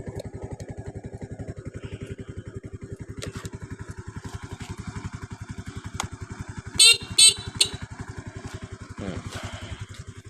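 A motorcycle engine idles smoothly with an even, rapid pulsing beat throughout, joined briefly by a few short high chirps and clicks midway.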